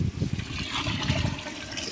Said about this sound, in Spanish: le agregamos el agua.